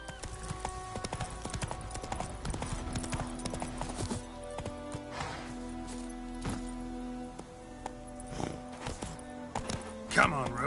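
Roach, a horse in The Witcher 3: Wild Hunt, trots with steady clip-clop hoofbeats at moderate distance, a brief whinny near the end, while a voice speaks over the hooves.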